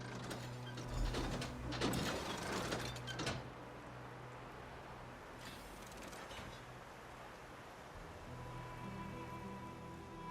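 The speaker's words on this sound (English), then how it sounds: "Now throw the lever, and we will see what happens." A lever mechanism in The Elder Scrolls Online, a burst of rattling, ratcheting gear clicks followed by a steady mechanical rumble and a second, softer grinding stretch.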